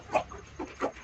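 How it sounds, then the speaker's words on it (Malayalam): Native egg-laying hens give a few short clucks, three quick bursts close by against a quiet farmyard background. "അപ്പോൾ ഇത് നമ്മുടെ നാടൻ കോഴികളാണ് കേട്ടോ."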